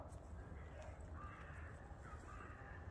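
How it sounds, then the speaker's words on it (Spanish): Crows caw from a distance on a wintry hillside, their calls faint and partly buried under steady background noise, with a few hoarse cries rising and fading. "Son unos cuervos."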